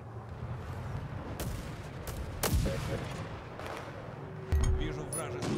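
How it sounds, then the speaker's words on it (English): Airstrike explosions boom in the World War 3 video game, heavy blasts and gunfire-like cracks over a constant rumbling battlefield bed, with voices speaking throughout. "Enemy airstrike fast approaching"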